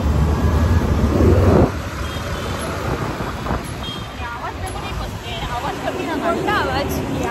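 A vehicle on the road gives a loud, heavy rumble for the first second and a half, then drops to a steadier, quieter traffic drone while people talk over it.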